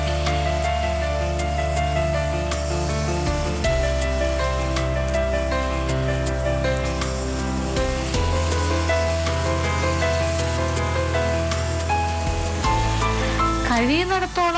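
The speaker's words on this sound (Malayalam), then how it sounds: "കഴിയുന്നിടത്തോളം തമ്മിൽ തമ്മിൽ ഒട്ടാത്ത രീതിയിൽ വറുത്തെടുക്കുക." Potato pieces coated in batter deep-fry in hot oil, giving a steady, loud, close sizzle and crackle that runs without a break, with faint scraping now and then.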